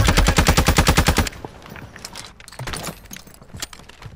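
Close, loud automatic gunfire in a video game, a rapid burst of about a dozen evenly spaced shots from a hillside position, followed by scattered lighter shots and clatter.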